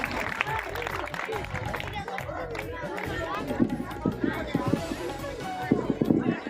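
Children clap at a government senior secondary school's annual function and donor-honouring ceremony in Rajasthan, giving a scattered, ongoing round of applause under someone talking over a loudspeaker, with crowd murmur and stronger bursts of clapping near the end.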